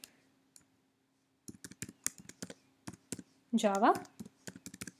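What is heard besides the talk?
typing a class name on a computer keyboard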